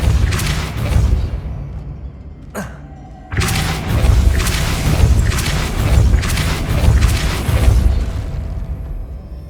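In the Hogwarts Legacy video game, a Depulso spell is cast at a puzzle mechanism to make it spin: a sharp whoosh and thump, then a loud rumbling, grinding rhythm of rotating machinery with repeated heavy pulses.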